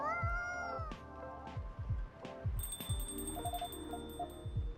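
A cat meows in the video game Coffee Talk, with a drawn-out, falling cry near the start followed by shorter meows. Soft background music plays underneath, and bright chiming, alarm-like tones come in later.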